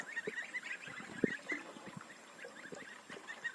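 Goslings peeping and honking softly in quick, irregular calls, close by, with occasional louder squeaks.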